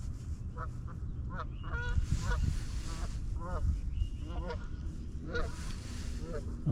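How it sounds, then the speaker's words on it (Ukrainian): Several geese honk repeatedly in bursts over steady outdoor background noise, the calls fairly close and overlapping. "гуси, гуси."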